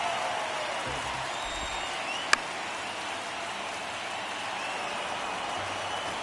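A baseball crowd during a tense ninth inning of a one-run game on a full count gives off a steady, distant roar like rain, with a sharp crack partway through.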